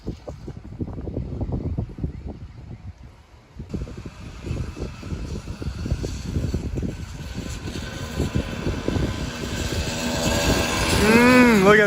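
A vintage 1911 motorcycle speeds past in a blustery wash of engine and wind noise that swells louder toward the end as it draws near.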